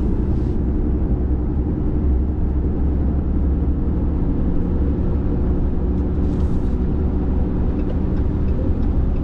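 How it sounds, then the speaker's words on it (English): Inside the cabin of a 2023 Ram 2500 truck on the move, a steady, loud low-pitched road and engine rumble continues without a break, with no talking. "I'll show you guys the sound level inside the truck."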